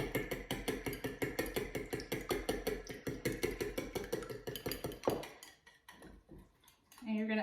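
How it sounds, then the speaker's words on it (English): Dry ingredients for an apple cinnamon cake being whisked in a bowl, a fast, steady clinking rhythm of metal whisk against the bowl for about five seconds, then a few scattered taps and scrapes before it stops. "just whisk these guys together."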